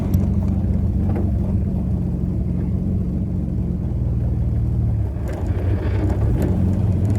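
A 50-year-owned barn-find Austin Healey 3000 drives along with a loud, steady low engine drone and road rumble, heard close up from the car.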